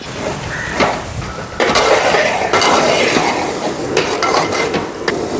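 A spoon or ladle scrapes and clinks around a metal pot as thick biryani gravy with Kashmiri chilli powder, coriander powder, garam masala and pepper is stirred, close and fairly loud, with soft sizzling underneath.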